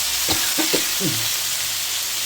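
Onion and capsicum hit fried masala in a pan for chilli chicken, giving a steady hissing sizzle with a few brief low clunks at the start.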